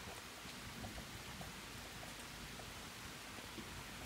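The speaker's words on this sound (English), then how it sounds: "Okay, it's like storming." Steady rain falls outside during a storm, a dense even hiss of drops that stays faint and unbroken throughout, with no voices and no distinct thunder.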